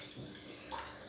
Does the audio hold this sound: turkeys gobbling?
no